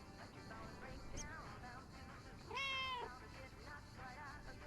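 Mortimer, a cat in the video game Lake, gives a clear drawn-out meow that stands out in the middle, with softer mews around it over a steady background hum.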